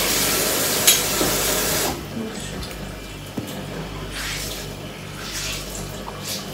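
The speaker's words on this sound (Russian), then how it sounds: "Я сейчас мою посуду." Dishes being washed under running tap water in a home kitchen, a steady close rush of water with soft clinks and splashes that eases after the first couple of seconds.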